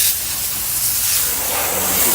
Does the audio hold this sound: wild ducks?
no